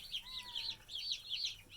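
Young meat bird chickens cheep and cluck nearby in a rapid, repeating chorus of high, wavering peeps, steady and close with no talking.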